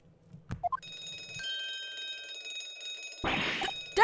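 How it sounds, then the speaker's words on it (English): An alarm bell rings in the video game Dai Gyakuten Saiban 2, a bright sustained metallic ring that comes in after a few short game sounds, then a burst of noise cuts across near the end. "This is obviously an alarm."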